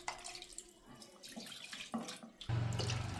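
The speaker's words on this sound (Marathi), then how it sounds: "आता ना मी याच्यात पाणी टाकते" Water pours into a washed mixer-grinder jar in a home kitchen, a splashing, gurgling stream that grows fuller and louder toward the end, with faint clatter before it.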